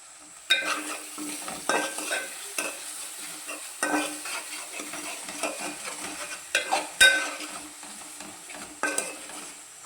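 Cooked-down tomatoes sizzle gently in a pan while a spoon stirs them in irregular scraping strokes and occasional taps, close and moderately loud over a soft steady fry.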